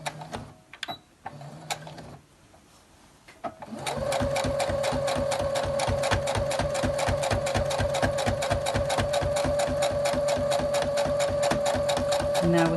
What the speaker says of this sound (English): And now we're sewing up to where we started.